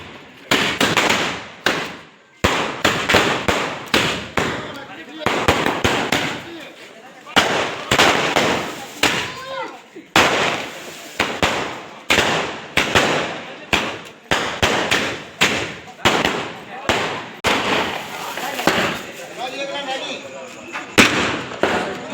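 Diwali firecrackers burst in quick, loud volleys, cracks and bangs crowding together with short gaps between them, while voices talk amid the noise.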